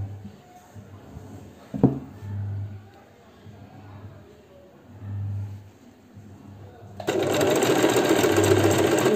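Singer sewing machine fitted with an overlock foot runs in a steady, loud mechanical whir for the last couple of seconds, after a quieter stretch of low handling noise and a sharp knock.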